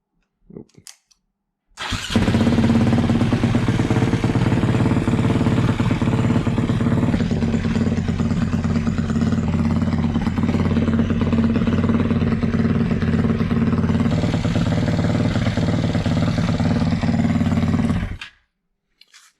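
A Husqvarna SM510R supermoto motorcycle engine cranks and fires at once, then runs loud and steady, close by, with a throbbing low idle for about sixteen seconds before cutting off abruptly.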